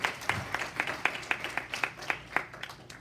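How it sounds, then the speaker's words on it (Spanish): Sparse applause from a church congregation during a Sunday service, a handful of distinct, rhythmic claps from a few people, fairly soft and close, with no talking over it. "Démosle un aplauso grande al Señor"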